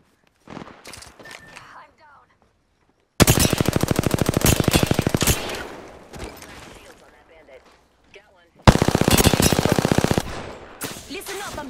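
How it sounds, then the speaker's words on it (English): Gunfire in the video game Apex Legends, with two long bursts of rapid automatic fire, loud and close, separated by quieter stretches and brief voice sounds. "I'm getting shot at."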